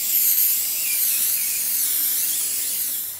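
A PlastiKote spray paint can hisses steadily as paint is sprayed onto the light outside of a KNAGGLIG wooden crate, a continuous close, airy spray with no talking.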